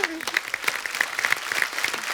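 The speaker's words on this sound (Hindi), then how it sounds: "एक बार जोरदार तालियां हो जाए" A studio audience on The Kapil Sharma Show bursts into dense, enthusiastic applause, steady clapping filling the space while a voice briefly cuts through.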